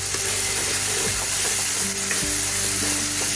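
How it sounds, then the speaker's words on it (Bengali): A spice paste for fish roe kofta curry fries hard and is stirred in a pan. A loud, dense sizzle dominates, with rhythmic spatula scrapes cutting through it and no voices. "মশলাটা ভালো করে কষিয়ে নেব।"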